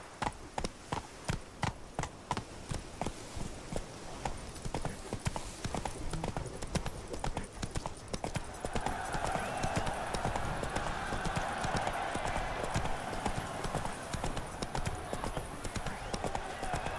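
A horse in The Witcher 3: Wild Hunt, Blood and Wine, climbs a flight of steps with a rapid run of sharp hoof clip-clops, then keeps clopping steadily as a louder hissing ambience rises beneath.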